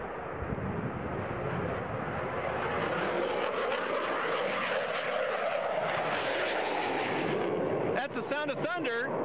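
Military jet aircraft at the 2018 Northern LYNXX exercise at Volk Field roar loudly and continuously overhead, a broad rumbling thunder that swells and holds, with a brief burst of other sound near the end.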